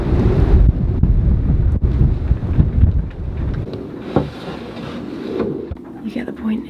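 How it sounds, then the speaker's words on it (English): Strong 45-knot wind buffets the microphone in heavy, rumbling gusts that ease toward the end, with faint voices partly audible beneath the roar. "It's pretty bloody windy out there."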